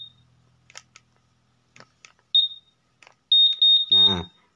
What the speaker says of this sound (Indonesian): Nah, ini kan alarm.